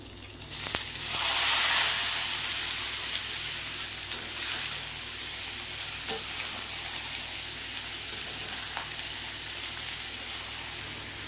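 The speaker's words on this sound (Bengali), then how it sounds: "এইবারে আমি এই এঁচোড়গুলো মশলার ভেতরে দিয়ে কষে নেব" Young jackfruit pieces fry in oily spice paste in a pan for niramish curry, a steady close sizzle with occasional stirring scrapes, louder at first then settling into a continuous hiss with no voices.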